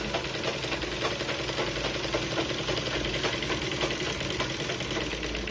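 A sewing machine stitches the back piece of a blouse in one continuous, steady, dense whir, close by and fairly loud with no pauses.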